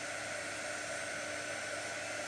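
A heat tool blowing hot air for crafting, a steady close whooshing hiss that stays even and unbroken at low volume.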